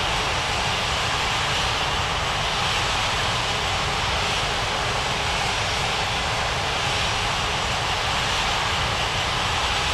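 Airliner engine roar in the Unmatched Air Traffic Control video game, a steady, loud broadband jet rumble holding for the whole stretch, with no voices over it.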